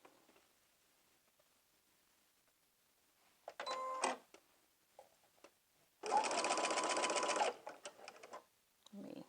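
A sewing machine fitted with a walking foot stitches sweater knit fabric in two bursts, a short run of whirring stitches and then a longer, louder steady run, with faint handling sounds in between.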